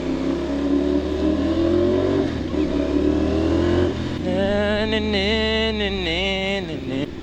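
A motorcycle fitted with an SCProject 450SR small canister exhaust revs loudly in an underground parking garage, holding a steady idle-rumble before climbing into several sharp, rising throttle blips close by.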